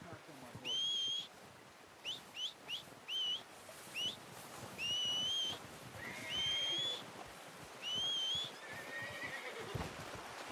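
Horse neighing and whinnying in Red Dead Redemption 2 after a hunt, several loud, high-pitched calls spread through the clip over clip-clopping hooves and outdoor ambience.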